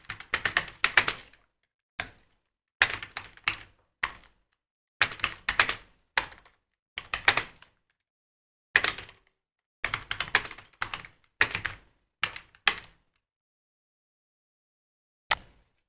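Bursts of typing on a computer keyboard while entering a home address into an online car tax payment form, with clustered key clicks separated by short pauses, fairly close and with no talking.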